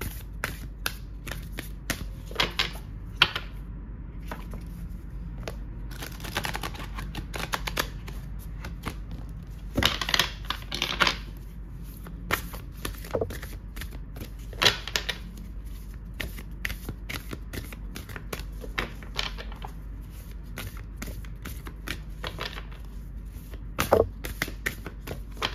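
Cards are handled and shuffled for a card reading, a long run of soft riffling and flicking bursts with occasional sharper snaps, close and quiet with no talk.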